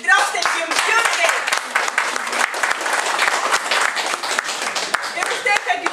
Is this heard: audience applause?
yes